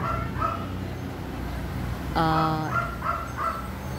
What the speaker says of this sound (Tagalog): Ang kukulit ng mga aso namin eh.